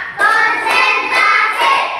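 Children clapping along in a classroom clapping chant, about four sharp, evenly spaced claps in a steady rhythm, close and loud, with no voices.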